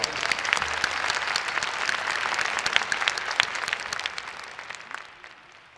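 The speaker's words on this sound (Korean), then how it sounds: "우리 다시 한번 뜨겁게 하나님께 모든 영광의 박수 올려드리겠습니다." Sustained applause from a large congregation at a Korean church worship revival service, dense and steady clapping that fills the room before gradually thinning and fading toward the end.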